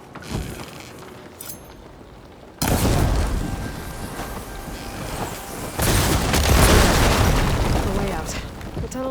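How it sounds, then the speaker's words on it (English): Blaze barrels bursting under fire ammo in Horizon Forbidden West: after quieter game ambience, a sudden loud boom erupts, followed by sustained rumbling blasts and a second heavy explosion swell near the end. "Hitting those blaze barrels with fire ammo should do the trick."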